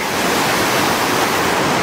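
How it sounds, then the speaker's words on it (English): A fresh mountain creek flows on the Mt. Hood Timberline Trail, giving a loud, steady, close rush of water with no breaks. "There's a fresh creek"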